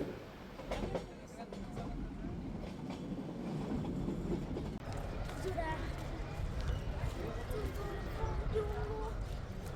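A moving train from Mettupalayam to Ooty rumbles steadily with rhythmic clattering, while people talk over the continuous noise.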